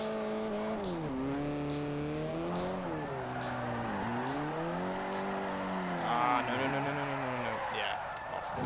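A Chevy Spark drifts in Forza 4, its engine droning and revving in wavering harmonic sweeps, with tire squeal rising near the end and a voice talking over it throughout.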